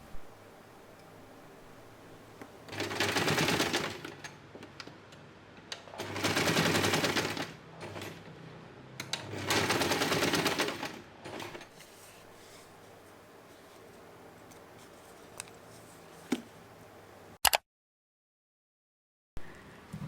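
Sewing machine stitching a fabric tab onto the outer fabric of a zipper pouch, three loud close bursts of rapid mechanical whirring separated by quiet pauses, with a sharp click near the end.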